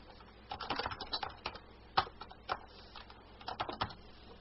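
Fingers type on a computer keyboard in quick bursts of soft clicks with short pauses between them, close and fairly quiet, with no voices.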